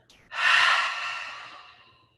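A single long, loud audible exhale through the mouth during a relaxing yoga shoulder release, a breathy rush that swells quickly and then fades out slowly over about two seconds.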